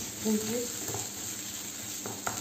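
Onions with a spoonful of tomato paste sautéing in a pan, a steady low sizzle and hiss running throughout with a soft stirring scrape near the end, no talking.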